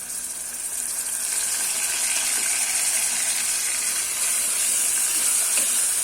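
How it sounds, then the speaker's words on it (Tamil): A freshly ground ginger, garlic, cinnamon and clove masala paste sizzles steadily with onions in a pan, a bright, continuous hiss that holds close and fairly loud throughout, no voices. "இப்போ நம்ம இந்த ஃப்ரெஷ்ஷாக அரைச்ச இந்த இஞ்சி பூண்டு பட்டை லவங்க மசாலா போட்டுடலாம்."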